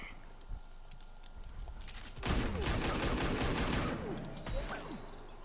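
Deadshot's meter-burn rifle fires in a fighting video game, a loud, dense burst of rapid gunfire that erupts midway and rattles on for about two seconds before tapering off.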